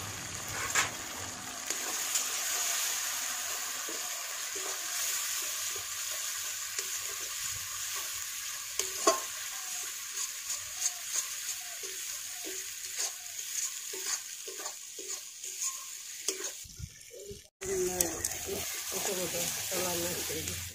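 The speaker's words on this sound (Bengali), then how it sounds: "মশলাটা পুরোপুরি ভাবে ভাজা হয়ে গেছে" Spices with turmeric sizzle in hot oil for aloo dum with steady hissing, punctuated by repeated scraping and stirring clicks; a brief gap near the end before frying resumes.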